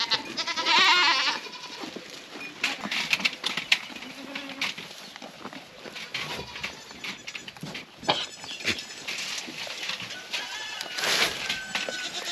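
Young goats on a farm bleat in short overlapping calls amid busy outdoor background noise, the cries fairly close and repeated throughout with no clear speech.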